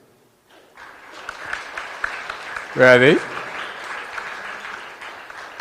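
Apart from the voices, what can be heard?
audience applause for the second-place team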